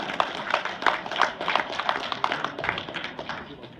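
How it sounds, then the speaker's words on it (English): Scattered applause from a small audience at a university culinary competition, sparse claps tapping in an uneven rhythm, moderately near and fairly quiet, with faint voices underneath. "Give them some applause."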